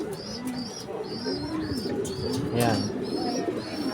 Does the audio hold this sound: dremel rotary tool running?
no